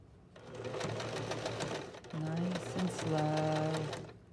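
A sewing machine runs slowly as it stitches a curved seam, its motor whirring in close, steady bursts with brief pauses between them.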